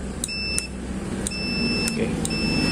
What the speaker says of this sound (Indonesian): Sekarang kita tes pakai avometer skala buzzer.